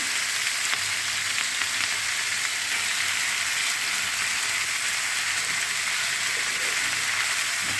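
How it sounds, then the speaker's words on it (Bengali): Chowmein noodles fry in a pan with a steady, dense hiss of sizzling oil, loud and unbroken throughout, with only faint hints of stirring and no voices. "নেড়ে নেড়ে একটুখানি অল্প নেড়ে চাউমিনটা অ্যাড করবো।"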